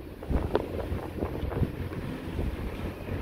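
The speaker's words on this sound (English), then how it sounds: "And it is windy." Steady wind buffeting the microphone, with low rumbling gusts throughout and a few soft thumps.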